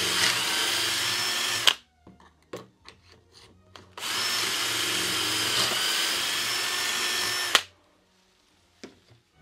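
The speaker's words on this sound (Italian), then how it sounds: "Prendiamo il nostro trapano ed eseguiamo il nostro lavoro." A power drill bores holes into wood through a Wolfcraft doweling jig, two long steady whining runs of about two and six seconds, loud and close, separated by brief knocks and handling noises, with no talk.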